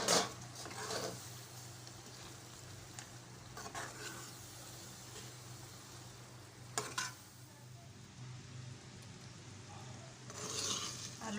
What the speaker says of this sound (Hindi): आलू और मटर डाल के हमने इसको थोड़ी देर भून लिया है